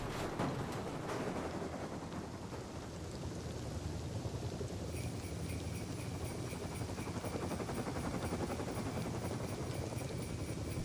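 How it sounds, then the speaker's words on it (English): Steady loud rotor-like whir of a video game helicopter in Rust fills the whole stretch, with a brighter, higher layer joining about halfway through. "that's how helicopters fly"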